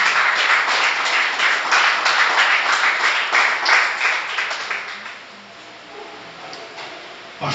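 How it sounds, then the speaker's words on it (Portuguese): Congregation applause at a church service, a broad wash of many hands clapping that holds steady for several seconds and then fades away to near quiet. "Aleluia, pode aplaudir Jesus."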